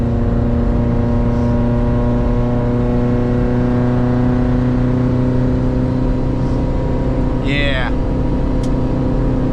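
A 2013 Subaru WRX sits on launch control in the dirt, its engine held at a loud, steady, droning rev with rich even harmonics, a brief chirp near the end and a short spoken word.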